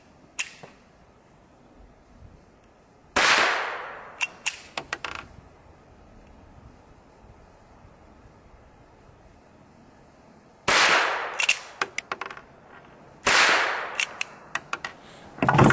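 Reports from CCI Quiet .22 semi-auto rounds fired from a rifle: three clusters of sharp cracks with quick follow-up snaps and echoes, spaced several seconds apart, each a loud burst standing out against quiet outdoor background.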